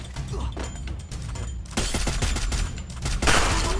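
Rapid gunfire from the Free Fire battle royale game crackles in dense bursts with mechanical clatter underneath, loud and close throughout, intensifying toward the end.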